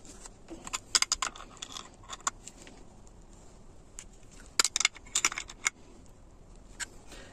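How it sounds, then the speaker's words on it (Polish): Metal wrenches clink and scrape against a threaded pipe elbow as the fitting is tightened, giving sparse, sharp clicks and rattles in a quiet room with brief clusters of taps. "Skręcasz kluczami."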